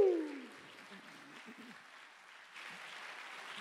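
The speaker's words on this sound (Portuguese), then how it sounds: "uma salva de palmas para os nossos astros" An audience claps at a hypnosis show, a soft, fairly distant spatter of applause that fades after a brief tonal sting at the start and rises slightly again near the end.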